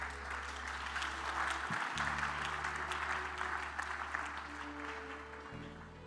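A church audience applauds steadily and loudly throughout, a dense continuous clatter of many hands with a low hum underneath and no break in the clapping.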